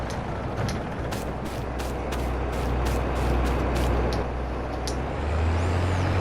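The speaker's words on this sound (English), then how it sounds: "let's move the truck out of the way" A truck in Farming Simulator 22 rumbles with a steady low engine drone, punctuated by a series of sharp hissing bursts like air-brake releases, no talk.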